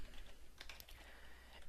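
Typing on a computer keyboard while filling in a first-name text box, a quiet run of soft key clicks with a few sharper taps near the middle, heard alone with no talking.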